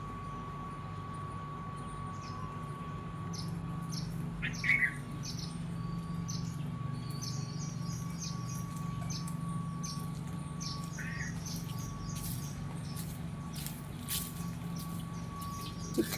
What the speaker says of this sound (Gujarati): ચકલા ચી ચી ચી કરે.